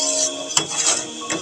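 Sugar syrup for sooji barfi is stirred in a pan, with a spoon scraping and knocking against the metal in a couple of sharp clinks over a continuous bubbling hiss.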